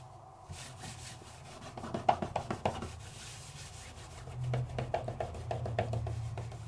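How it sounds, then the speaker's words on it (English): A baby wipe rubs and scrapes goop off a plastic craft mat in close, uneven bursts of short scrubbing strokes with pauses between them, with no talking. "Get all that goop off my craft mat."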